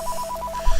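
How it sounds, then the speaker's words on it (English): A phone rings with a repeating two-tone electronic pattern, steady pulses in quick succession, fairly clear over low background rumble, ending with a few soft thumps. "I was trying to get rid of the phone noise here."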